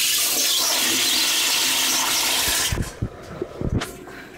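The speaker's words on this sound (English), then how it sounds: "Slung toilet. Manual flush." A manual-flush toilet with a sling seat in a public library family restroom, heard as a loud, sustained rushing gush of water that cuts off abruptly, followed by a few trickles and clunks.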